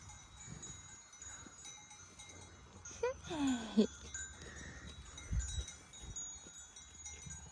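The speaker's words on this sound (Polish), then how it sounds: "Jezu, pierwszy raz mam styczność z taką dużą ilością owiec" A sheep among a large flock on a Tatra mountain hike gives one close, wavering bleat, with faint clinks and soft rustling around it and a few quieter thumps afterward.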